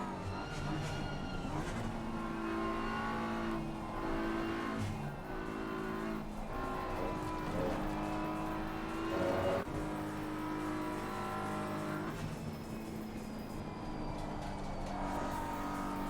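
Race car engines at the Paul Ricard circuit in a racing video game, a loud sustained drone rising and falling through gear changes and revs, with other cars nearby and no talking.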